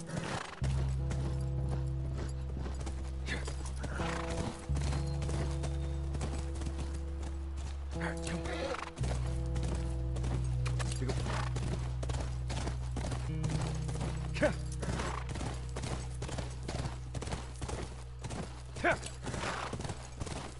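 Horse hooves clip-clop and a horse neighs in The Last of Us video game near a ranch, set against a low droning music bed with sustained tones, and someone talks over parts of it.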